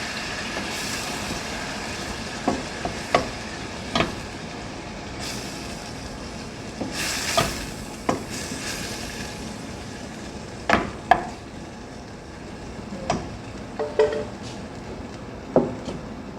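Shrimp for shrimp biryani stir-fry in a pan, with a steady sizzle under a sequence of sharp clacks and scrapes from a utensil striking the pan at irregular intervals.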